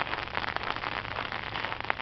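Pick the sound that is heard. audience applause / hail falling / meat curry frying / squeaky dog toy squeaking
hail falling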